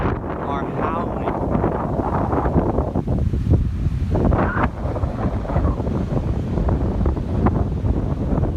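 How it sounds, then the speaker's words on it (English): Ocean waves surge and crash at a beach while strong wind roars across the microphone in a constant loud wash, with a person talking over it. "The waves are huge."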